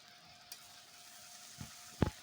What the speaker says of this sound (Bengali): এবার সব কিছু ভালো করে একটু ভেজে নেব।